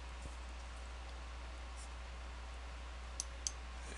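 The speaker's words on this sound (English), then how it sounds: "There's a lot of clicking involved." Mouse clicks while playing an online card game, a few sharp, isolated clicks late on over a quiet electrical hum, no talk.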